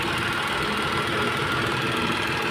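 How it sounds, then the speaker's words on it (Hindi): A Renault Kwid engine running on petrol after an overhaul idles with a steady, dense mechanical hum and faint knocking, close and continuous with no talk. "अभी गाड़ी पेट्रोल पे स्टार्ट हो गई, सीएनजी पे ऑटोमेटिक कन्वर्ट हो जाती है और एकदम बढ़िया स्टार्ट है।"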